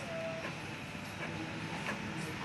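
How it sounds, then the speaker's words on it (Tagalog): Epson 3-in-1 printer running a photocopy job, a steady mechanical whir and hum with faint clicks, continuous and fairly quiet throughout. "Photocopy ni siya."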